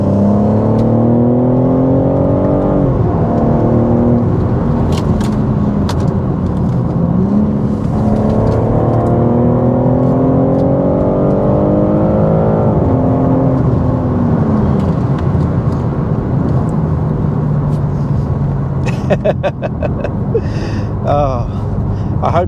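BMW G80 M3 Competition xDrive saloon on the road, its engine rising in pitch through repeated gear pulls with steady road and wind noise, while a voice talks over it inside the cabin.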